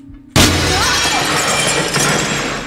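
Glass shatters loudly in a Roblox horror map, a sudden crash followed by a ringing, crumbling tail of falling shards that fades slowly, with a second smaller clatter near the end.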